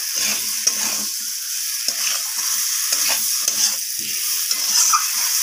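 Fried potatoes are stir-fried with spices in a pan for a cauliflower and egg dish, giving a continuous bright sizzle with repeated scraping strokes of a spoon or spatula at an uneven rhythm, close and loud, with no voices.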